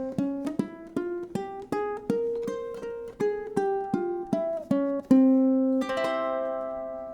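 A ukulele picks out a Phrygian dominant scale note by note, each plucked tone ringing briefly in a steady ascending then descending run, ending on a sustained strummed chord, played quietly and alone.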